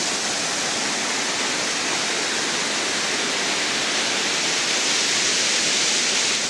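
Water flows steadily along a canal, a continuous broadband rushing that stays loud and even throughout, with no voices.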